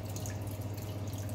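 Water runs into a sink to make soapy washing water during passion fruit curd making, a steady, soft rushing over a low hum. It continues evenly throughout, with no talking.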